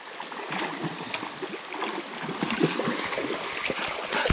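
A woodland brook flowing over rocks, a continuous close splashing and babbling rush with lively bright gurgles and no voices.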